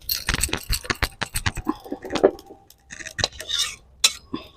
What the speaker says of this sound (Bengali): ভাজা হয়ে গেছে, এবার ভাজাটা শিলের মধ্যে নামিয়ে নেব।